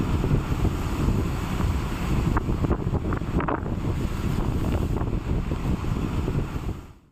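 Wind and sea waves at Marine Drive, Mumbai, during heavy monsoon rain form a loud continuous roaring rumble with gusty buffeting that holds steady before fading out at the end.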